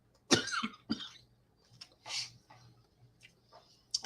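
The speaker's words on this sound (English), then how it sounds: "I almost made it without coughing" A man coughs hard in a short burst, then gives a few weaker coughs and throat-clearing sounds, each separated by quiet gaps, all close to the microphone.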